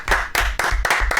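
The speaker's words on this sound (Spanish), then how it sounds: "un aplauso" A studio audience on a television quiz show claps in a quick, regular rhythm, with about five sharp, close, loud bursts in just over a second and no talking over them.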